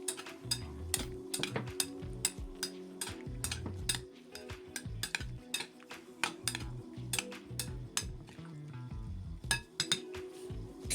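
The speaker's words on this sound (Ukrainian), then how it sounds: "Гарно перемішую." A utensil stirs mushrooms in soy sauce in a pan, with repeated light clinks and scraping against the dish in an irregular rhythm, close and clear.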